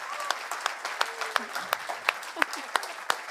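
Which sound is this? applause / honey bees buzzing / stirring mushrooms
applause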